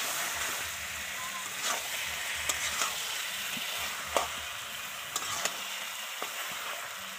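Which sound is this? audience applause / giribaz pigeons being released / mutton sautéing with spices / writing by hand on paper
mutton sautéing with spices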